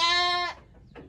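A goat in a goat pen gives one loud, close, wavering bleat, followed by a faint second call, with no talking.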